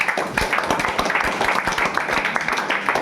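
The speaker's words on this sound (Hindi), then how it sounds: "आइए, ताली मारिए इसके लिए।" Students clapping in a classroom, close and uneven, a brief burst of hand claps of varying strength filling the short moment without talk.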